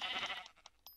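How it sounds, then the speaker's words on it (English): A sheep in the Minecraft video game bleats once, a short nasal call close up, followed by a few faint game clicks. "Kill that other sheep, I'm gonna kill a sheepy."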